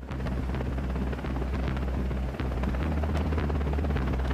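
A CH-53K heavy-lift military helicopter roars in flight with a deep, steady engine and rotor rumble, loud and continuous, alone without voices.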